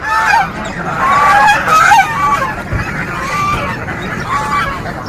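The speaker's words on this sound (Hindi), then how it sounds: "यहाँ पर हमने देखा बहुत सारे बतख थे" Loud, overlapping honking calls from a flock of ducks, continuing throughout with a busy, noisy background.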